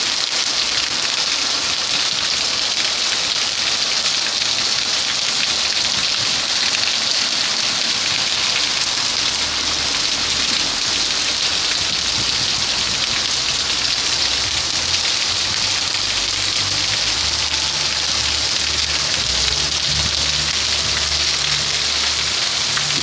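Torrential rain after a 40-degree heat spell in Coração de Jesus pours down as a dense, loud, unbroken hiss of heavy drops drumming on surfaces, steady from start to finish with no voices.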